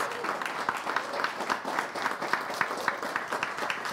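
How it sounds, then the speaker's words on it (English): At a student union election question time, an audience claps to welcome a candidate. The clapping is moderate and steady, with individual claps clearly audible in a fast, uneven patter. "Please, a round of applause"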